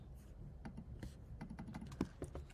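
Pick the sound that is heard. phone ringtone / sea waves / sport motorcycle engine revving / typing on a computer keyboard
typing on a computer keyboard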